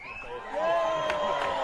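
Crowd gathered at an outdoor campaign rally, a broad murmur of many people swelling louder partway through and holding steady at a moderate distance.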